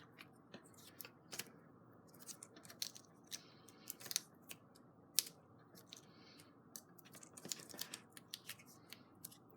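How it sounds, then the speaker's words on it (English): Scissors snipping through paper while trimming around a card-making kit piece, a steady series of crisp, close cuts with short pauses, no talking. "I'm just gonna take my scissors and cut all the way around."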